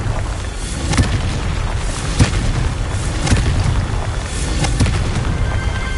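A Confringo blasting spell in Hogwarts Legacy goes off as a dense, sustained roar of booming blasts and crackling debris, with several sharp explosive hits standing out over about six seconds.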